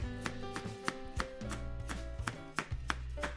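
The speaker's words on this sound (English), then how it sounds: "Finally, I'm gonna slice up our carrots" A knife slices carrots on a cutting board while making vegan katsu curry, about a dozen crisp, evenly spaced chops in a steady rhythm, close and clear with no talking.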